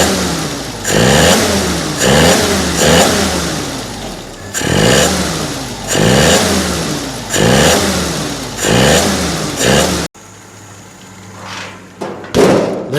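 Engine of a 1948 Willys CJ-2A revved repeatedly in a garage at operating temperature, with rhythmic rising and falling bursts of throttle, loud and close, then dropping to a lower idle with a few knocks near the end.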